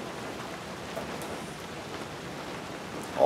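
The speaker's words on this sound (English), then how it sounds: "Rainy day in Connecticut," Steady rain falls on a rainy day in Connecticut, a constant soft hiss with scattered drops, moderately loud and even throughout, no voices.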